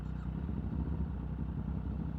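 A Triumph Street Triple motorcycle engine rumbles at a low, steady idle, close by and continuous with a faint mechanical clatter and no talk.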